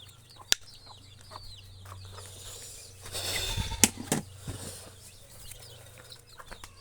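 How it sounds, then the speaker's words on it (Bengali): Chickens cluck and squawk close by while eating bran feed on a farm, with scattered sharp clucks, a brief burst of wing flapping and scuffling in the middle, and quieter clucking throughout. "এই যে মুরগিগুলো খুব আনন্দের দেখাচ্ছে।"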